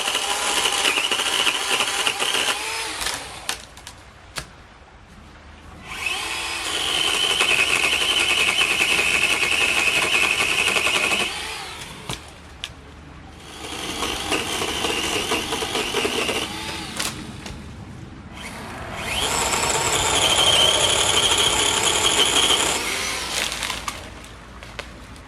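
A Kobalt 40V battery pole saw cuts through dense, thorny Osage orange branches, its high-pitched chain whine rising in two long loud bursts separated by quieter idling and crackling wood.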